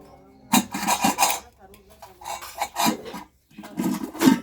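Washed dishes, pots and utensils being picked up and set down in a home kitchen, scattered clinks, scrapes and rattles in uneven bursts with brief quiet gaps.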